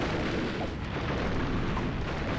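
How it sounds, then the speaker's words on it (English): Constant explosions rumble through Donkey Kong 64, a dense, loud, continuous roar of blasts with no clear breaks and no voices. "Please understand, it's constant explosions."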